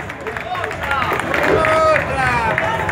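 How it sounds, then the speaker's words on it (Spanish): Crowd applause and cheering at an outdoor chamamé concert at La Pérgola, a dense clapping wash mixed with crowd babble and voices, swelling midway and tapering off. "aplauso."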